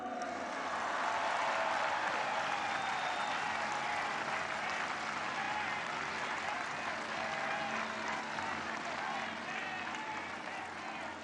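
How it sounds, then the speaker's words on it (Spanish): A large audience at a political rally in Mexico, during a presidential speech at a march, applauds steadily and loudly for about eleven seconds, a dense wash of clapping from a big crowd without speech. "Otro aplauso."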